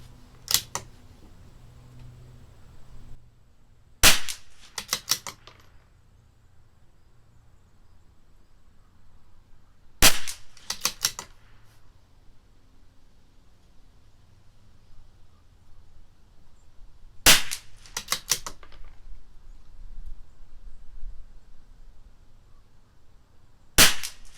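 A CZ 457 LRP rimfire rifle fitted with an IBI barrel fires match ammunition at a target in four clusters of sharp, crisp reports, one to three shots each, spaced several seconds apart against quiet background hiss.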